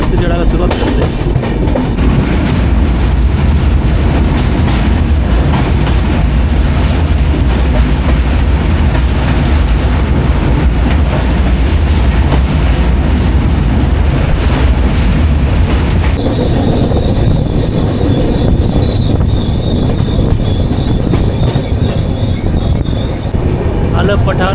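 Passenger train rolling steadily along the tracks as it begins climbing from Pathankot toward Katra, with a continuous loud low rumble and rattling wheel noise throughout, and a thin wheel squeal joining in over the last stretch.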